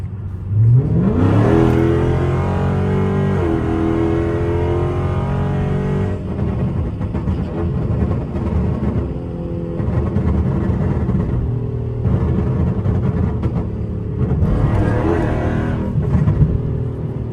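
A tuned Dodge SRT 392 engine, heard from inside through a cracked window, revs hard and climbs through the gears while driving in Mexico, a loud throaty roar that rises, drops and surges again, with no talking over it.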